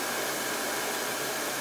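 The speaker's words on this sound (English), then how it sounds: "you have to spend a little time with the blow dryer on the thicker parts" Blow dryer running steadily on a manger scene figure, a continuous broadband whoosh of rushing air heard alone at moderate level throughout.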